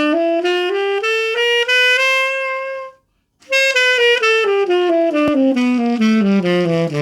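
A single melodic instrument plays a Mixolydian blues scale with an added major 7 chromatic passing tone between the flat 7 and the root. A run of legato notes stops in a brief silence, then a steadily descending line follows, close and clear.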